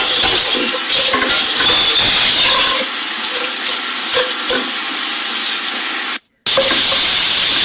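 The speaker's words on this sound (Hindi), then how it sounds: "अब प्याज डालेंगे, प्याज फ्राई करने के लिए।" Sliced onions frying in hot oil for a chickpea curry, a steady loud hissing sizzle with small crackles that runs unbroken, then cuts out for a moment before resuming.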